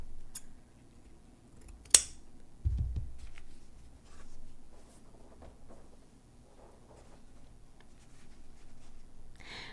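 Scissors cutting fabric trim on a tiered heart ornament: a few close, quiet snips and a sharp clip against a near-silent room, with light handling rustles between them.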